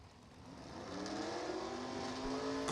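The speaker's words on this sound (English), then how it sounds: "DJ, wheeling the Duschel family Corvette. Getting after that burnout" A Corvette race car at a drag-racing event does a burnout, its engine note climbing and holding a strained, rising whine at a moderate distance before a sharp burst of noise at the very end.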